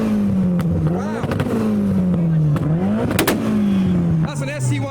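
A Ford Escort Mk VI with an ST170 turbo engine revving at a rev battle, loud repeated throttle blips rising and falling in pitch a few times, with crowd voices underneath.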